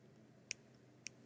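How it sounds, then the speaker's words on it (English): Scissors make two crisp, quiet snips a moment apart while trimming the fabric seam of a sewn bauble cushion, heard close and alone. "I'm just going to come back and snip a little bit closer there"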